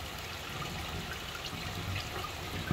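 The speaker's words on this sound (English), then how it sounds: "Get all that water pouring into that cistern down below." Rainwater pours steadily into a drain feeding an underground cistern at a beach house under construction in the Philippines, a continuous rushing wash with no talking.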